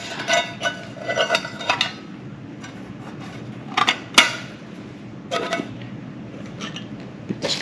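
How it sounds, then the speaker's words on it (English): A camp cooking pot just brought to a boil is pulled off a small backpacking stove and its lid is set on, giving several close metallic clinks and clatters spread across quiet pauses. "Get this covered back up with my lid."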